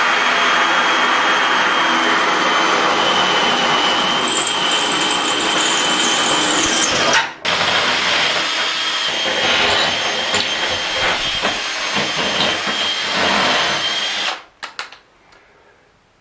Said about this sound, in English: I use a 1/2-inch tile bit